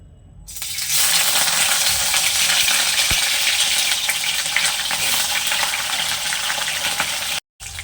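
Katla fish pieces hit hot mustard oil and start frying at once, setting off a loud, steady, crackling sizzle that carries on without a break for several seconds, with one brief clink partway through.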